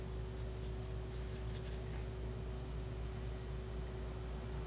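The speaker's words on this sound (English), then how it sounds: "I could paint that out here." A brush dabs rubber cement resist onto paper in a string of quick, soft strokes early on, followed by a faint steady hiss, all very quiet and close.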